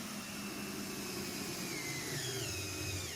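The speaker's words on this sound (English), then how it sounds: "Now we're drilling through the carpet" A steady, continuous power-tool whine runs without pause, a drill grinding through carpet toward a floor joist at constant speed close by with no voices.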